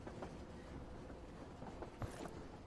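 A locomotive in the Void Train video game rolls steadily along, a continuous low rumbling drone of rail noise with faint rhythmic clacks and a brief thump near the end, with no voices.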